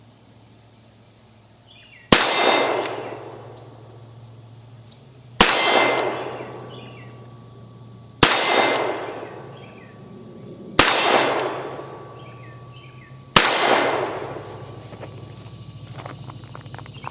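A double-action Colt Diamondback revolver fires five shots a few seconds apart. Each sharp crack is followed by the ringing clang of a hit steel target, and the tone dies away slowly.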